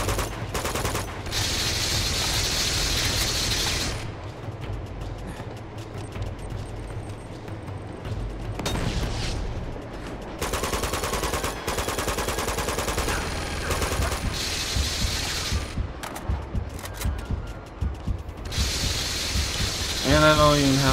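Minigun fire in Uncharted 2, long loud sustained rattling bursts separated by short pauses, with engine rumble underneath and a voice talking over parts of it.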